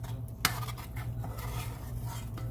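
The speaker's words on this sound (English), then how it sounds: "let's go ahead and stir in that because we want it to smooth out." Utensil stirring cheese sauce in a pot, soft scraping and clinks with one sharp knock near the start, steady and fairly quiet with no talking.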